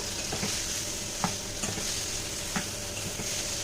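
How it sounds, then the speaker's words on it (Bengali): Soybean chunks fry in spiced masala with a steady, close sizzle, while occasional scrapes and taps of a spoon stirring mark the otherwise even hiss. "এই দেখো সোয়াবিনটা দিয়ে দিলাম, একটু নাড়িয়ে দেবো"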